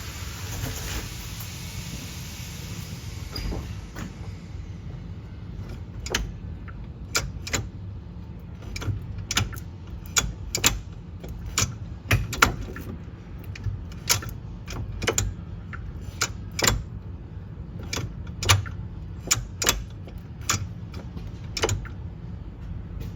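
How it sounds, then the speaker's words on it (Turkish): Car gear shifter repaired for gears that would not engage, moved through its positions: a long series of sharp mechanical clicks and clunks at irregular intervals over a quiet, low hum. "Şimdi vitesi hareket ettireyim. Geçişlerinde göreceksiniz."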